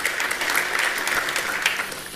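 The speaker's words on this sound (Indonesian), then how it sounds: "Kita beri tepuk tangan untuk kebenaran ini." A congregation at a church service claps together in a steady, dense round of applause, heard throughout the short stretch.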